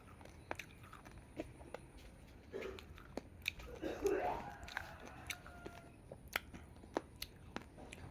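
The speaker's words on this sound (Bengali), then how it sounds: "আমি তো সবজি খাচ্ছি।" Close, quiet chewing of vegetables in a home setting, with soft rhythmic crunches and bites spread through the clip and a brief muffled rustle in the middle.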